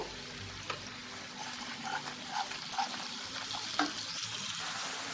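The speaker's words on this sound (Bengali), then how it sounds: "মশলাটাকে আমি খুব ভালো করে কষিয়ে নেব।" Spice paste with a yogurt mixture, salt and sugar being fried and stirred in a pan for a yogurt eggplant curry: a continuous sizzle broken by several scraping strokes of a spatula, close and moderately loud, with no talking.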